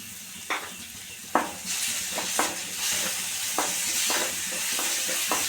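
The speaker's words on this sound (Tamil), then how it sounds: "அதையும் கொஞ்சம் நல்லா வறுத்துருவோம் நல்லா வறுத்துக்குவோங்க" Goat spleen fries in a pan with ginger garlic paste, giving a steady close hiss and sizzle broken by repeated sharp scrapes and taps of stirring at irregular intervals.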